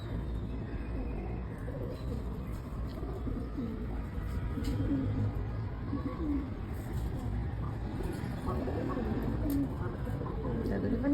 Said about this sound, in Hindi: तकरीबन कितने कबूतर होंगे